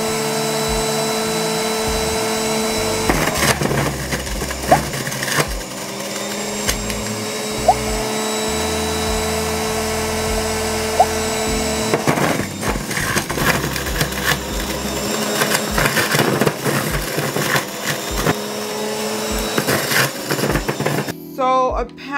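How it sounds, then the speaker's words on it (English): A Nutribullet Juicer Pro on turbo setting juices whole key limes with the peel on, a loud, steady motor drone with gritty crunching bursts as the fruit is pushed through, running continuously at close range. "since the peel's on, I'm going to put this on turbo."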